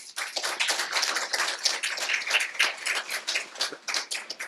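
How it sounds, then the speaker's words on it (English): A small audience at a club meeting gives a round of applause, a thin, bright patter of individual claps, fairly close and uneven, rising and fading over a few seconds. "Please give them a round of applause"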